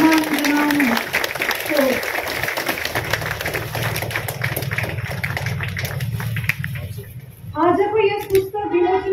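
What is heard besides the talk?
audience applause at a book launch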